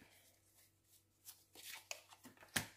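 Tarot cards are drawn and set down, giving a few soft scattered slaps and rustles that build to one sharper snap near the end, close and quiet.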